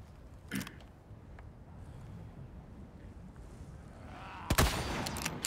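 A gunshot in Resident Evil 4 Remake, one loud sharp crack with a short tail after a quieter earlier pop, over steady wind noise, no voices.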